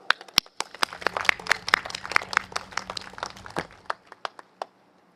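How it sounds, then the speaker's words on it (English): A small group claps at a political campaign rally in Singapore, scattered hand claps building briefly and then thinning out to a few last claps. "give them a round of applause."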